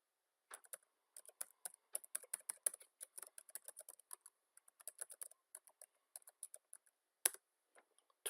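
Someone types login credentials on a computer keyboard: a run of quick, light key clicks in uneven bursts with brief pauses, fairly close and quiet, with no speech.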